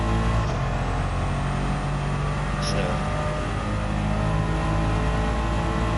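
A twin-turbo Mercedes-AMG engine in a Gran Turismo 7 race car roars loudly and steadily at high revs, a dense sustained drone, with a brief word spoken over it.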